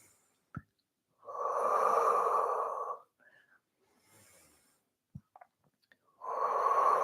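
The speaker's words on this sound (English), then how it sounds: "Inhale and exhale. Inhale and exhale." Deep breaths during an intermediate Pilates workout with no equipment: two long, close, steady exhales separated by quiet pauses and small clicks, with no talking.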